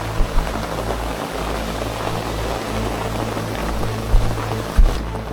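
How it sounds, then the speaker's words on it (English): Steady rain falling beside a creek outdoors, a dense continuous hiss with a low rumble underneath and a few soft thumps near the end. "It rains endlessly."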